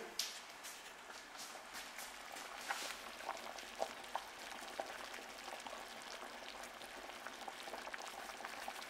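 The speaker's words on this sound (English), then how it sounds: "It's boiling beautifully." Potato soup bubbling in a pot at a steady simmer, a dense fizzing boil with small pops and clinks scattered through, quiet and close.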